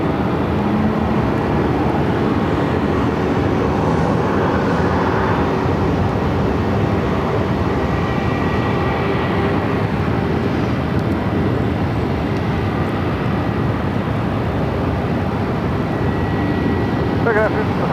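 An airplane taking off from runway 25 right at Phoenix airport, a broad, steady engine roar that swells and fades over the length of the clip, with some faint background noise.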